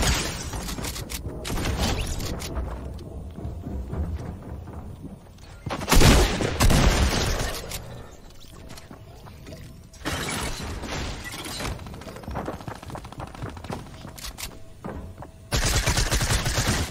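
Gunfire crackles in a Fortnite match, with loud bursts of rapid shots and sharp blasts separated by brief lulls and mechanical clatter, the heaviest volleys landing midway and at the very end.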